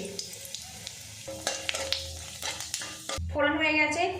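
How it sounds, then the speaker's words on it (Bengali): Dried chilli pieces and black cumin hit hot mustard oil in a pan, bursting into a loud, close crackling sizzle with stirring scrapes throughout. "তেলটা ভালো মতো গরম হয়ে গেছে এর মধ্যে দিয়ে দেবো শুকো লঙ্কার টুকরো দিয়ে দেবো কালো জিরে"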